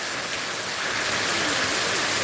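Steady rain falls in a continuous dense hiss, fairly loud and unbroken, with no clear voices of the playing children.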